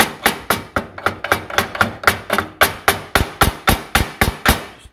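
A hammer taps repeatedly on a stuck metal part to work it loose, about twenty sharp, evenly spaced strikes in quick succession, close and ringing briefly after each hit.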